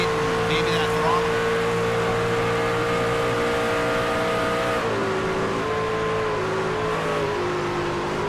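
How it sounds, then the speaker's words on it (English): Race truck engine at Pocono during a playoff round, a sustained loud drone with steady harmonics whose pitch wavers and dips as the throttle fluctuates, carrying on under a commentator's voice. "Patrick, you can really hear him fluctuate maybe that throttle"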